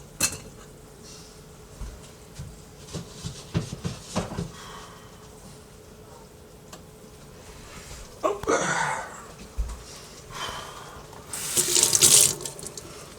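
Water runs from a kitchen tap while washing food during home cooking on an electric stove, coming in irregular bursts that splash louder near the end, with no talking.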